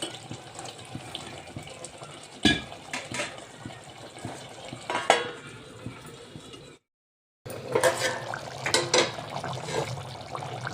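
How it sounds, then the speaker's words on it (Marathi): Water is poured into a jackfruit vegetable curry cooking on the stove, a running splashing stream with a few sharp knocks, a brief silent gap, then more pouring and clatter. "आता याला मी थोडं जसं लागते तसं फक्त थोडं पाणी सोडणार आहे।"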